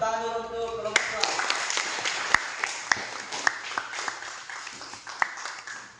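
A classroom of students applauds group 2 with a few seconds of brisk, dense clapping, some sharp individual claps standing out, right after a brief spoken phrase.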